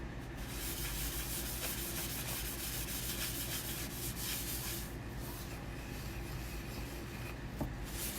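Paste finishing wax is rubbed onto a wood surface in a soft, continuous scrubbing hiss, close and quiet, with brief strokes and faint pauses but no voices.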